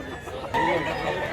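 A big, tall two-year-old rooster crows once, fairly close and loud, while people talk around it.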